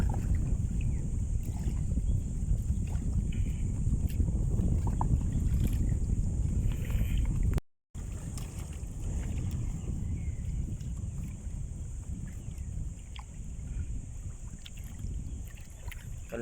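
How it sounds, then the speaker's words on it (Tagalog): Gentle sea water lapping and sloshing against a squid-fishing boat's hull, steady and close, with light wind noise; a brief dropout midway, no talking. "Narinig mo lang huni ng ibon tsaka ampas ng alon"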